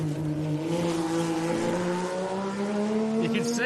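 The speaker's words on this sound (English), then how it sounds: "You can see it wanting to rev, wanting to get up, get on the power, get on the power." Porsche 911 rally car climbing an uphill gravel stage, engine revving with rising tones as it gets on the power, heard from a distance under commentary.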